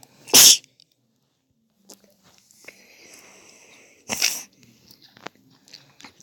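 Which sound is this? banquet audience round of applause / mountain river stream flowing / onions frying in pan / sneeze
sneeze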